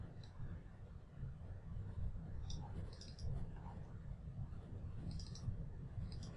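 A few faint computer mouse clicks at scattered moments over a low steady hum, each a short isolated tick.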